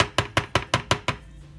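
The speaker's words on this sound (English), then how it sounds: "you're just going to mix it together until you incorporate the soup into the green beans" Six evenly spaced clattering strokes over about a second, made while soup is stirred into green beans in a container for a three-ingredient green bean casserole, then quiet.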